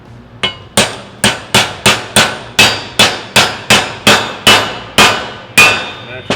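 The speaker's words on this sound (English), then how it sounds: "you'll feel it as you tap it in. Never want to tap them in too hard" A hammer taps a suspension bushing into a pivot tube while installing Polaris Turbo S suspension on a Polaris General XP, with about fourteen loud, sharp metallic strikes in a steady rhythm and no talk.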